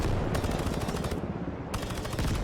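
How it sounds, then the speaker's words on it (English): An MP5 fires full auto in Ground Branch in loud, close, rapid bursts, with one short pause in the middle before the fire resumes until the end. "full auto, because it's an MP5."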